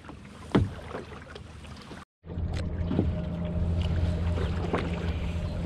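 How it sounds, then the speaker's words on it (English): Kayaks gliding across Kinmundy Lake on an evening outing, with soft paddle strokes and water swishes against a steady low hum and light breeze, a brief dropout midway. "Just a beautiful evening cruise out here on Kinmundy Lake in the kayaks."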